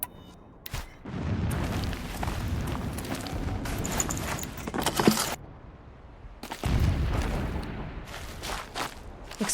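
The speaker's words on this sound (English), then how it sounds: "Explosions in the distance." Explosions rumble in the distance in the video game Horizon Zero Dawn, a rolling barrage of deep booms and crackling blasts that comes in waves, dips briefly, then surges again.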